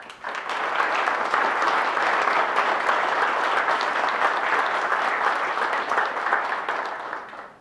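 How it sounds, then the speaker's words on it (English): An audience at a Purple Heart Day veterans event in Wenatchee Valley Veterans Hall gives a sustained round of applause, dense and even clapping that fills the hall for several seconds before tapering off at the end. "Just another round of applause would be great for that."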